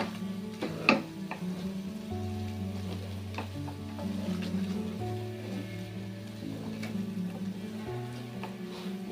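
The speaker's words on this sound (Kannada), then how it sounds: "ಈಗ ನಾವು ಗ್ಯಾಸ್ನ ಮೀಡಿಯಮ್ ಫ್ಲೇಮ್ ಇಟ್ಕೊಂಡು ಇದನ್ನು ಕೈ ಆಡಿಸ್ತಾ ತಿರುಗಿಸ್ತಾ ತಿರುಗಿಸ್ತಾ ಇರಬೇಕು" A sprouted moong dal filling sizzles gently in a pan over a medium gas flame while a spoon stirs it, scraping and tapping irregularly against the pan. It is quiet and close, with a faint hum underneath.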